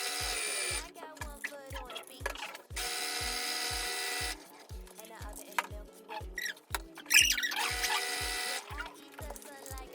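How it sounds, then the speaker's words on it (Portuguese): Sewing machine stitching flannel blanket pieces, running in several bursts of rapid, steady needle thumping with short pauses between runs, close and moderately loud, with no talk. "Então eu vou costurando aqui, você vai costurando aí e a gente se encontra daqui a pouco."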